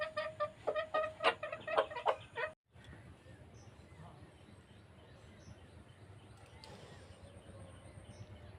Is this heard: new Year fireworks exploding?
no